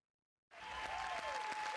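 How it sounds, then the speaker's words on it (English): Canned crowd cheering and applause from the Deal or No Deal Wii game bursts in abruptly after silence and holds as a steady, moderately loud wash of clapping. "Stop cheering."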